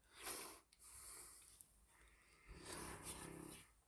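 A dog snores faintly in a quiet room, with two slow, breathy snores a couple of seconds apart.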